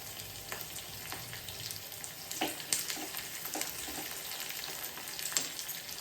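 Shallots and curry leaves frying in oil for a tempering, a steady close sizzle punctuated by scattered pops and light stirring scrapes, without speech.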